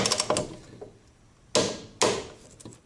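A bolt on a Mazda Miata NA/NB rear brake caliper is tightened with a hand tool, giving a few close metallic clicks and two sharp ratcheting clacks, no talk.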